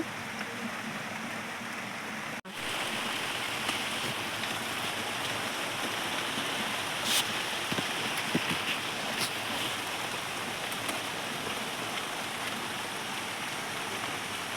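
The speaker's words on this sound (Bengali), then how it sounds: "বর্ষাকালের মতো ঝমঝম করে বৃষ্টি পড়ে চলেছে।" Heavy monsoon rain pours down steadily outdoors during a storm, a dense continuous hiss with occasional drips and a brief dropout early on; no talking.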